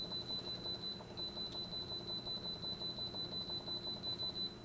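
An Instant Pot timer, set while a chuck roast cooks, sounds a steady high electronic tone pulsing in quick, even beeps, continuous and close with a low hum beneath it.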